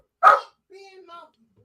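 Dog named Zeus gives one sharp, loud bark up close, followed by a softer, drawn-out whining yip with a tonal, voice-like quality, in an otherwise quiet indoor space.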